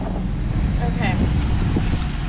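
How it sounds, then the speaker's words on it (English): Low rumbling wind buffets the microphone steadily, with a voice briefly audible underneath. "Oh, it's windy. It is windy."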